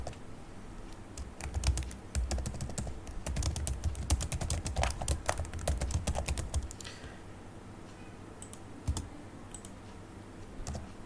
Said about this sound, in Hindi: पहले हम इसमें कुछ मैटर टाइप कर लेते हैं